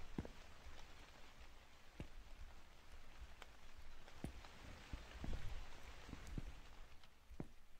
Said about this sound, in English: Yeah, it look like it's raining.